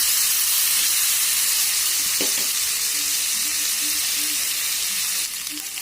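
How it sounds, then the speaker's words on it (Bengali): Carrots fry in a kadai with a loud, even sizzle, a brief clatter of stirring near the middle and a sudden drop in the hiss just before the end. "আমার গাজরগুলো ভাজা হয়ে গেছে, গাজরগুলো তুলে নেব"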